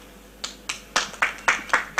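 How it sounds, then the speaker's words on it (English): A few people clap slowly at a panel event, giving seven or eight distinct, evenly spaced claps that build in loudness, over an otherwise quiet room. "Round of applause for them."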